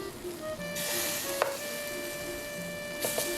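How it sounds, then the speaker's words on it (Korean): Tofu pan-frying in a dry pan with no oil gives a soft, steady sizzle, with a couple of faint light clicks from turning the pieces and no talking. "두부도 구워줍니다."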